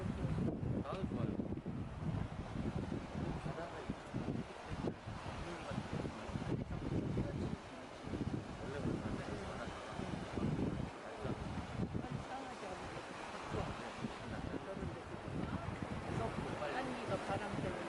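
Afternoon wind blows over open water on a Gangwon-do lake or shore, a steady broadband rush with gusty microphone buffeting and faint lapping, continuous and fairly quiet throughout.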